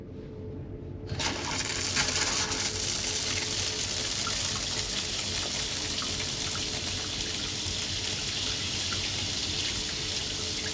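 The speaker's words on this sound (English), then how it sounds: "Let's see how the shower works." A shower in a Lerwick, Shetland lodging bursts on after a brief quiet moment, then runs as a loud, steady hiss of spraying water close by, continuing unbroken to the end.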